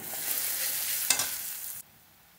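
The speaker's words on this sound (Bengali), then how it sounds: "তেলের সাথে এটা ভাজা হয়ে যাবে।" Kasuri methi (dried fenugreek leaves) frying in hot oil with cumin and onion, a close, steady sizzle with a brief stir-like burst midway before it cuts off abruptly; no speech.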